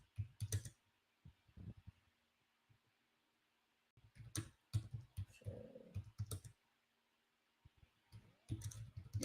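Someone types on a computer keyboard in a quiet room, producing short irregular bursts of soft clicks separated by pauses.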